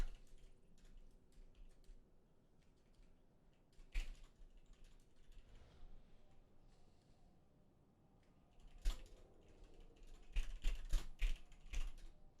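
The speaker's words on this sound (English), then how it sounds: "I'm just typing something real quick and then I'll be back" Computer keyboard typing, soft scattered keystrokes in short bursts, close and fairly quiet, turning into a denser, louder flurry of clacks near the end, with no talking.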